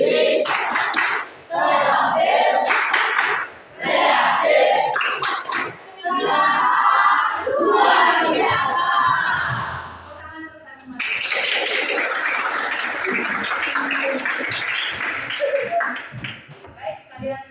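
A classroom of students performing the 'tepuk FTK' clapping chant, voices chanting in bursts punctuated by sharp, rhythmic group claps, ending in a long stretch of loud, continuous clapping and cheering.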